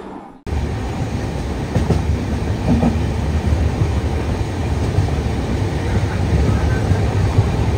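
Express train 22831 from Kolkata to Brahmapur running, a loud steady rumble and clatter of the rail coach heard from inside, starting suddenly and continuing without a break.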